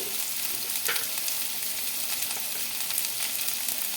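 Onions with curry leaves and salt fry in a pan, giving a steady close sizzle with a few brief stirring clinks.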